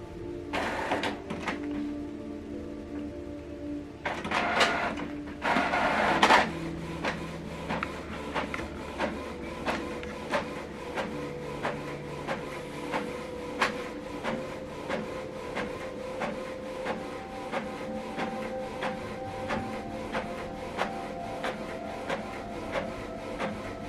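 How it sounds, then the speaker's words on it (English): A Canon printer runs a double-sided print job, with a brief loud burst of paper feeding early on followed by a steady stream of rhythmic mechanical ticks and whirring at close range, no talking. "So this document now is printing."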